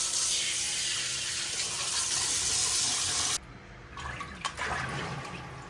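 Tap water gushing loudly over whole fish being washed for tandoori, a steady hissing stream that cuts off abruptly, followed by quieter splashing and handling sounds.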